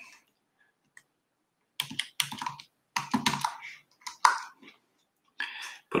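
A password is typed on a computer keyboard in short, close bursts of clicking keystrokes separated by pauses, fairly quiet.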